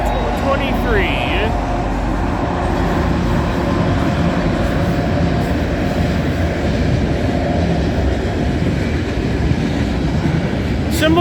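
CN freight train CNG878 heading toward Montreal rolls past at night, a dense, steady rumble and rail clatter throughout, with a brief horn-like tone early on.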